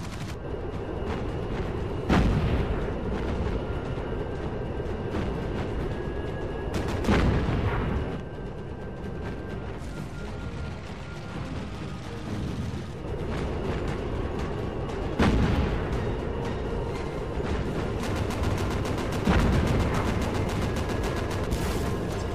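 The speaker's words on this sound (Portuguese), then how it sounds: "Uma explosão da costa." Repeated deep booms and explosions go off every few seconds over a constant rumbling naval battle din in Battlestations Pacific, with scattered gunfire in between.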